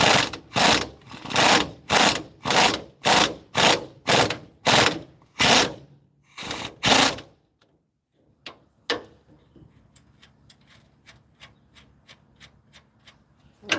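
A ratchet wrench clicks in a quick, loud, rhythmic series of bursts while working on a Heidts ball joint replacement, then pauses before fainter scattered ratcheting ticks and clatter.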